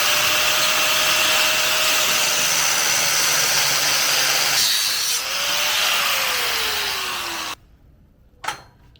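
A cutting tool grinds steadily through a small metal angle on a chainsaw mount, a loud continuous whine that dips in pitch partway through, then cuts off, followed by near quiet and a brief clatter.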